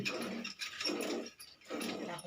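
A dog barks during cow milking outdoors: three gruff, rough-edged bursts at moderate distance, fairly faint against quiet background noise.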